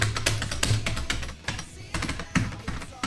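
A clicky computer keyboard is typed on up close, with rapid crisp key clacks in quick bursts and a brief pause midway, without speech.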